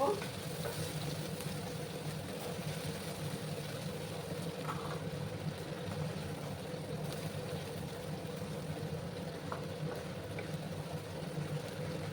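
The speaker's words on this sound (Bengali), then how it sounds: "লঙ্কাকে ভালো করে ভেজে নিচ্ছি আমি" Green chillies fry in a pan with a soft, even hiss over a low background hum, with a few faint stirring taps.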